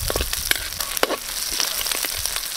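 Garlic, ginger and onion sizzling in hot oil in a pan for a crab dish, a loud, dense, steady crackle with small pops and occasional stirring, close up and without talk.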